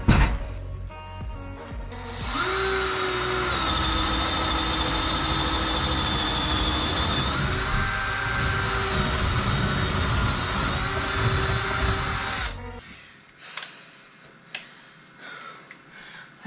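An electric drill bores a hole low down in a mobile home kitchen, its steady motor whine running loud and unbroken for about ten seconds before cutting off, followed by a few scattered knocks and clicks.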